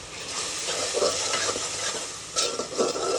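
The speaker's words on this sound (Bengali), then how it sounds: "এখন আমার মশলাটা কষাচ্ছি" Spice paste fries and is stirred in a pan for a fish curry with bean seeds, potato, tomato and onion greens, giving a steady sizzle broken by a few louder scraping stirs near the end; no one talks.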